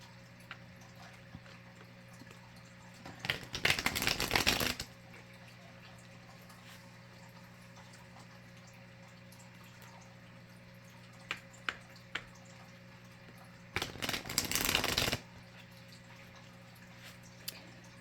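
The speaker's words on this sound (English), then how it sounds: "Let's shuffle some more cards here." Two bursts of riffle-shuffling tarot cards, each lasting about a second and a half, separated by quiet with a few faint taps and a low steady hum underneath.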